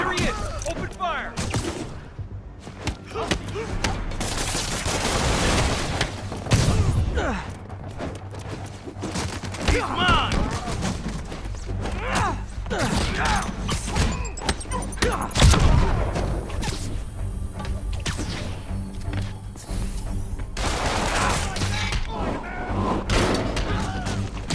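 Enemies open fire in the video game Marvel's Spider-Man 2, with dense bursts of gunshots and heavy thuds rattling on and off throughout, mixed with shouted voices and game sounds.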